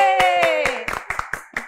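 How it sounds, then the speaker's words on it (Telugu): Audience at a Telugu film team interview event clapping in sparse, separate claps, about seven distinct hits in under two seconds, heard over a voice with harmonic tones that fades under the claps. "give him a big round of applause"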